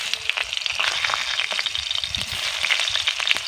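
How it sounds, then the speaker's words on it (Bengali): Raw green mango pieces and five-spice seeds frying in a little oil for Bengali aam sol give a close, steady sizzle with dense crackling throughout and no talking. "আমগুলোকে 2 মিনিট মতন ভেজে নেব"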